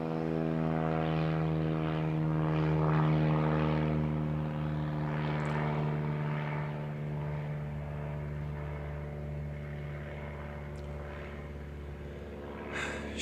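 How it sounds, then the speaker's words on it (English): A propeller airplane drones steadily overhead for the whole stretch, its low harmonic hum loud and sustained, growing slightly then easing as it passes, with no voices. "Fucking airplanes."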